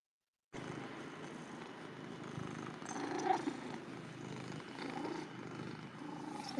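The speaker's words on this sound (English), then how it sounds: "She purrs so loud." A cat purrs loudly and steadily at close range, a continuous rumbling drone after a brief silent start.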